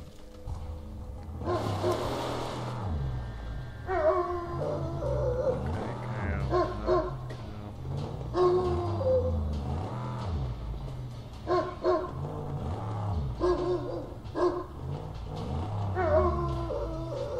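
Dinki Di, the dog in the game Mad Max, barking repeatedly in short rhythmic bursts, fairly close, over a low engine-like rumble and game sounds.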